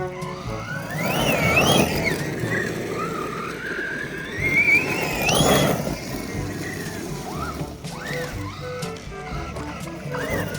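A Redcat Kaiju RC car running fast on a 3S battery, its motor whining up and down in pitch as it speeds past, loud and close with water splashing, while people talk over it.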